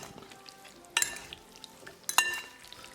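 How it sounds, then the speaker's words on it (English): A fork scrapes and clinks in a bowl, mixing raw chicken with degi mirch, turmeric, coriander, cumin and salt for an Indian chicken curry. Two sharp metallic clinks stand out over faint soft stirring. "Now with the help of fork, I'm going to mix it well."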